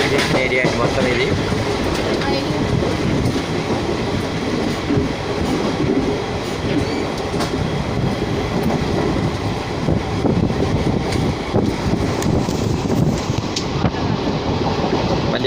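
A train runs near Ongole railway station, its steady rumble and clattering wheels filling the whole stretch loudly and continuously from close by.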